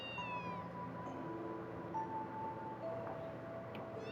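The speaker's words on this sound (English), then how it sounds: "A kitty! Huh? A cat?" A cat meows several times in a drawn-out, wavering voice, close and fairly clear over a steady low background hum, with no talking.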